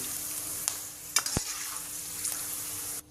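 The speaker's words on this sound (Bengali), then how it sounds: "আমি আপনাদের ভেজে দেখিয়ে দিচ্ছি" Beetroot chips fry in hot oil with an even, close sizzle, punctuated by a few metallic clinks and one sharp knock of a utensil against the pan, with no voices.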